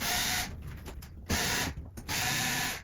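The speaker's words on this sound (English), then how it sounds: "So I can feel it from the back, so let's unscrew it." A ceiling fan mounting screw is turned out with a ratcheting tool in short bursts of loud, close mechanical whirring, separated by brief pauses, with no speech.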